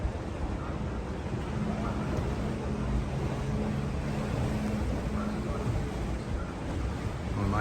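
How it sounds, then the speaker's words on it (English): Steady low rumble of the Pride of the Susquehanna river boat engine on the Susquehanna River at Harrisburg, Pennsylvania, with wind and water noise, continuous throughout at an even level. "We're riding the boat."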